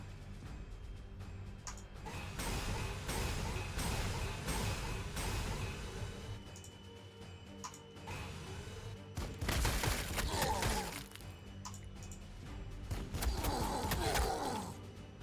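Orcs blow apart in Warhammer 40,000: Sanctus Reach, a string of muffled bursts, cracks and rumbling impacts at moderate distance over a steady low battle drone, with louder clusters of detonations toward the end.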